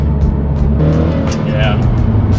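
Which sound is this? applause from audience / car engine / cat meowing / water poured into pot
car engine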